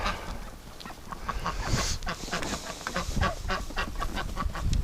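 Wintering ducks and geese outdoors on a windy, icy winter evening after a storm, honking and quacking in a busy overlapping flock at moderate distance, with gusty wind rumbling underneath.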